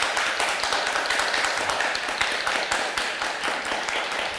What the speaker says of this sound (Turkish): bir alkış rica ediyorum Emniyet Teşkilatı'na